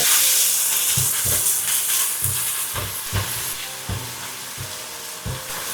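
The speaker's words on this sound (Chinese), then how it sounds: "放入蔥白段、蒜末，大火翻炒至雞肉微微金黃，7分熟。" Chicken with scallion whites and minced garlic stir-fried over high heat in a wok, giving a steady hiss and sizzle with soft periodic low thumps of tossing and scraping, close and continuous with no talk.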